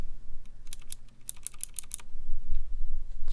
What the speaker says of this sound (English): You can hear the clicking there.